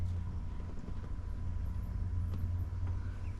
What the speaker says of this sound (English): Full throttle check. That is full throttle on the pedal.